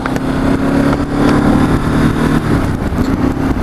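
A 2013 Ducati Multistrada motorcycle engine drones steadily while being ridden, loud and close, with rushing wind noise throughout and no talking.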